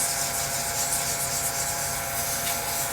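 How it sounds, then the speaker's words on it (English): Sandpaper rubs against an acrylic pen blank spinning on a lathe at about 1200 rpm, a steady, close, loud hiss with a constant hum beneath and no pauses. "So I'm going to turn my lathe down to about 1200. I'm going to come in here and just sand this down."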